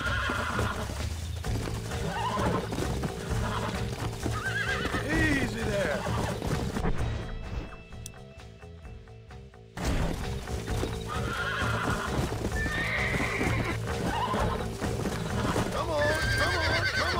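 Horses in Red Dead Redemption, with steady clip-clopping hooves and repeated neighing and whinnying up close, loud and continuous apart from a brief quieter stretch in the middle.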